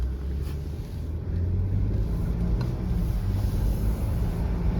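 A Mercedes GL450 with newly replaced front brakes cruises along a road, its steady low engine and tire rumble filling the interior at a constant, even level with no squeal or grinding and no one talking.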